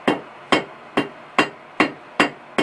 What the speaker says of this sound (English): I'm bringing it further up on the anvil so I can draw out some more